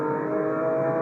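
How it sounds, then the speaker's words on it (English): A Porsche 911 GT3 engine driven hard on a race track, a loud, sustained high-rpm drone with strong tonal harmonics that holds steady through a brief burst. "Listen to that engine."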